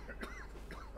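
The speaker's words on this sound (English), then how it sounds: "Can't you do anything to strangle this cough, Doc?" A character in the video game Hitman 2 gives a short, raspy cough of one or two bursts, heard close and alone.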